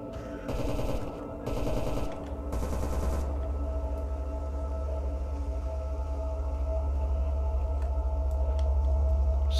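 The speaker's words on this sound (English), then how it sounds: "I don't know what they're shooting at over there" Distant automatic gunfire rattles in the video game Stalker Anomaly, with several short bursts in the first few seconds followed by a steady low ambient rumble and no voices.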